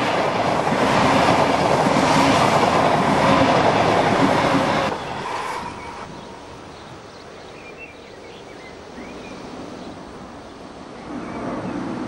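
An ETR 600 Frecciargento high-speed train roars loudly past at speed for about five seconds, then the rumble drops away and fades into quieter background noise.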